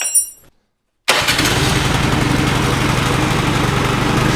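A small snowblower engine, recently running on bad gas with a cleared carburetor, cranks briefly, falls silent, then fires up and settles into a loud, steady, close running rumble.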